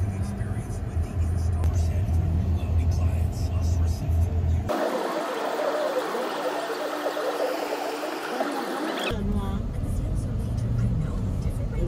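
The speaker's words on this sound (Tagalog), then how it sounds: "we're going home. Traffic." Road traffic rumbles past a car driving home, with a steady low engine and tyre drone, a stretch of hissing rush in the middle, and people chatting over it.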